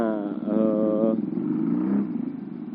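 A modified Astrea Prima motorcycle converted to a two-cylinder engine with a custom exhaust revs up close by in a short burst, its throaty note rising and then settling back.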